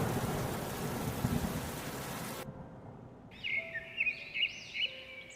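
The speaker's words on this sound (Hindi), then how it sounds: "तेज हवा चलने के बाद बरसे बादल किसानों पर आफत बनकर टूटे।" Heavy, dense rain with a thunderous rumble pours over farm fields after strong wind, then cuts abruptly to quiet where birds chirp and call in the distance.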